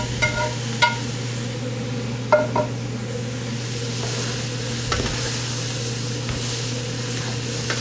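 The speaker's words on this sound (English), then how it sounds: "Give that a really good stir." Ground meat being stirred in a pot of chili, with a steady low sizzle underneath and a few scraping clatters of the spoon against the pot, moderately close with no talking.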